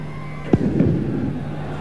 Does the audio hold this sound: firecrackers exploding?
yes